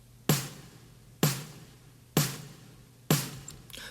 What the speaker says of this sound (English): I decided to put it on top of the snare